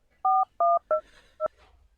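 Touch-tone telephone keypad beeps as a number is dialed: four short dual-tone presses, the first two evenly spaced and the last two quicker and sharper, clear and close with no talk.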